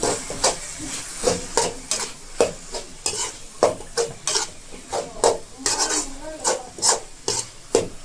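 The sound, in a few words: stirring and frying greens with egg in a pan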